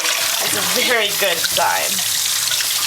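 Tap water runs steadily while a tie-dyed knit is rinsed, a continuous splashing stream with a person talking over it.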